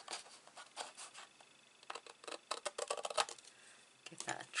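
Scissors snip through paper card in repeated short, crisp cuts, quiet and close, in uneven bursts with brief pauses between.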